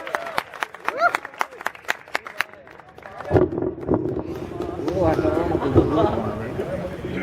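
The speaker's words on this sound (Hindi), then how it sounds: "एक बार और जोरदार तालियां" Audience at an annual hostel function at Hali Hostel, MM Hall, AMU, applauding a prize winner: after a few seconds of sharp claps and a voice, dense clapping from a crowd swells and holds steady, loud and close.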